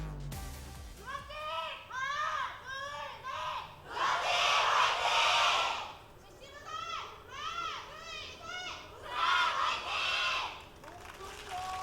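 A large esports arena crowd at an Overwatch match cheers and chants in loud rhythmic bursts, swelling into roaring waves between the chants.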